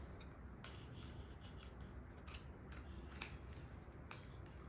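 Scissors snip repeatedly through a strip of blouse fabric in a tailoring class, a close, steady series of crisp cuts and rustling rubs with no talking.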